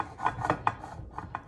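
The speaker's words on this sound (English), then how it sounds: "the smaller setting for the cheese grater" Cheese rasping over the small holes of a cheese grater while making pizza, about five quick, close scraping strokes in a short burst.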